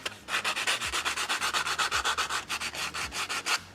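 ABS plastic on a TIE pilot helmet being hand sanded, a close rhythmic scratchy rasp repeating in quick even strokes, about five per second, steady and alone.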